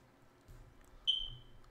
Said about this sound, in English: if you hear a little beep noise every periodically, I'm sorry. I have to replace a smoke detector. And I just heard it chirp.